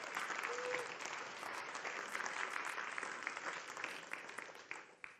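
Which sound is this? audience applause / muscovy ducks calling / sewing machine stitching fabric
audience applause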